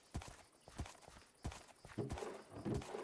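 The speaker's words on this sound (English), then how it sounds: "There's a horse here too." Horse hooves clip-clopping in the Minecraft video game, a steady run of soft, close hoof thuds in an uneven walking rhythm with faint game ambience behind.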